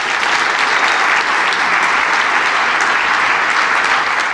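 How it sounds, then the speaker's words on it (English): A banquet audience applauds the evening's staff; loud, thick, continuous clapping from a large room, sustained at an even level for the whole stretch. "Let's give them a round of applause"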